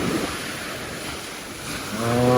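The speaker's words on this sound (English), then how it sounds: "Windy morning at the Kalithea beach, Cassandra, Halkidiki Peninsula, Macedonia, Greece" Windy morning on Kallithea beach in Kassandra, Halkidiki, Greece: a steady roar of wind buffeting the microphone mixes with rolling ocean surf, swelling louder toward the end.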